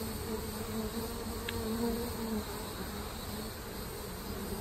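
Honeybees that have stayed too long in a swarm trap box give off a steady, close insect buzz at a low, even level throughout, with no talk.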